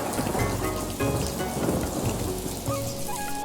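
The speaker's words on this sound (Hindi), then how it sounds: "थोड़ी ही देर में बहुत तेज बारिश शुरू हो जाती है।" A heavy downpour roars steadily as a story sound effect, a dense, loud hiss of rain on surfaces with low rumbling beneath and no voices.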